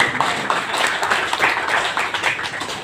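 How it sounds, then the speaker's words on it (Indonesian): A crowd at a Tabi indigenous community gathering in Jayapura, Papua, claps hands in a steady scattered patter, fairly close and moderately loud, with some voices mixed in. "Kamu tepuk tangan dulu, ibu saudara."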